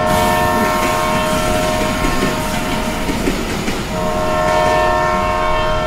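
A train rolls past close by with a loud, continuous rumble while its horn blares steadily throughout, briefly dipping before sounding again.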